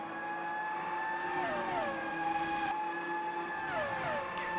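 Open-wheel race cars in a classic Grand Prix racing game at the Canadian Grand Prix, several high-pitched engines whining steadily with gear shifts dropping and climbing in pitch, close and continuous.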